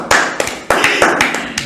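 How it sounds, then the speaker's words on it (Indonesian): A handful of close, crisp hand claps in a loose, uneven rhythm, a brief burst of applause from a small group or single person, with no voices. "Tepuk tangan dulu Za, biar semangat Za."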